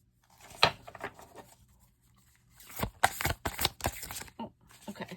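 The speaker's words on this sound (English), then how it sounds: "this is just a really hard deck to shuffle" A deck of tarot cards is shuffled by hand in bursts, papery riffling and slipping snaps near and close, with a quiet pause between the first flurry and a longer, busier second round.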